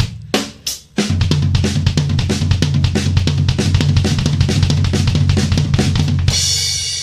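A drum kit plays a triplet pattern grouped in nines, cycling left hand, right hand and kick drum in a steady, driving rhythm. The hits are close and loud, with no talking, and a cymbal wash rings out at the end.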